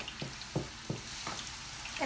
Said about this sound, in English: put your tortilla in there, and it starts bubbling up